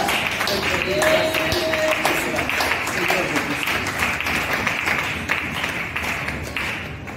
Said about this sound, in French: Acclamons-les pour cette grâce.